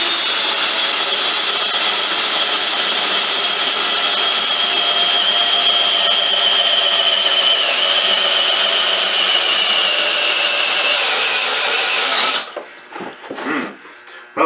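A Hychika hammer drill bores into oak pallet wood, a loud steady high-pitched whine running without a break for about twelve seconds, then cutting off into a few brief knocks and handling sounds.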